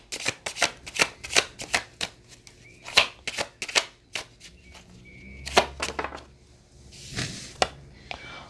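Tarot cards being shuffled up close, a quick run of crisp riffling snaps and slaps, then softer sliding and tapping as the deck is gathered.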